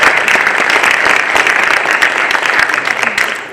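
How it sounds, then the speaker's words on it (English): Applause rings out from the audience at a neighborhood community association's annual meeting in Minneapolis, a dense, steady round of many hands clapping that lasts several seconds before tapering off at the end. "So how about a round of applause for all these fabulous volunteers?"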